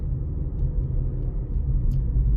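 Inside a Suzuki Ciaz with a 1.5 liter engine driving through the city there is a steady, low cabin rumble of the engine and road noise at an even level, with no talking.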